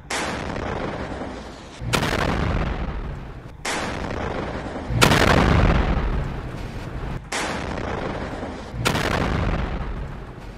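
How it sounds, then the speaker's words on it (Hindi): Rockets are fired in rapid succession by a Hezbollah fighter toward Israeli border posts, about six loud, booming launch blasts coming in pairs, each trailing off in a long roar. "हिजबुल्ला का एक लड़ाका ताबड़तोड़ रॉकेट फायर कर रहा है"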